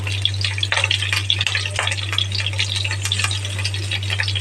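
Mustard seeds and green chili fry in hot oil, a steady crackling sizzle with rapid pops and spits throughout, close and moderately loud over a low background hum.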